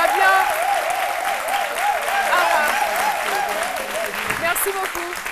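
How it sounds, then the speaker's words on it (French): Studio audience applauds a guest on a live French-language midday TV show, steady broadband clapping that holds for several seconds, with a host's voice and background music running underneath. "Et je vous demande d'applaudir très fort Monsieur Invention, Aloussène Sidibé."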